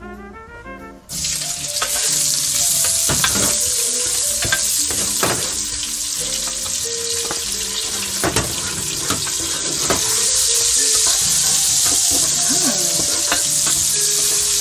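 Onions frying in reused pork oil in a pan for Filipino humba, a loud steady sizzle with scraping stir strokes and clinks throughout, no one talking.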